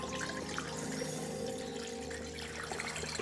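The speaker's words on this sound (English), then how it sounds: "I'm going to dilute it with some more filtered water to bring it up to 4 gallons of liquid." Filtered water poured steadily into beer wort in a home-brewing fermenter, a continuous low splashing and gurgling that runs unbroken throughout, fairly quiet and close, with no voices.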